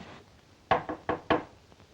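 Four sharp knocks on a door in a 1945 film scene, two quick pairs of close, loud raps over a quiet room hush, with no talking.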